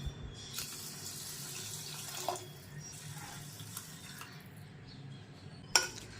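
Water runs into rice in the inner pot of an electric rice cooker, a soft, steady trickle heard nearby, with a faint clink of the pot near the end.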